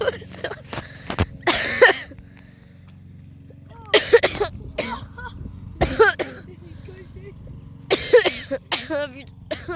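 Several rough coughing bursts come in spaced clusters, mixed with nearby voices talking outdoors beside a pond while fishing.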